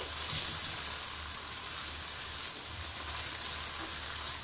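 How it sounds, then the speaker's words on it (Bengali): Egg posto with coriander leaves sizzles loudly in a frying pan while a spoon stirs it gently, giving a constant close hiss with faint soft scraping underneath. "নামানোর আগে ধনেপাতাটা দিয়ে দিবেন। একটু নেড়ে দিচ্ছি।"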